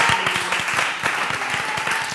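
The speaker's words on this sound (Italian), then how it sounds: "chiamo subito Unreal, un bel applauso!" A studio audience at a dance competition claps for a dancer called to the stage, producing a loud, even burst of applause that holds steady for a couple of seconds with no voices over it.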